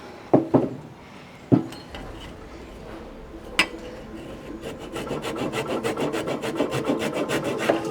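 Reclaimed wood pieces being sanded by hand, a few sharp knocks early on, then a steady rhythmic rasping rub that grows louder toward the end, close and alone.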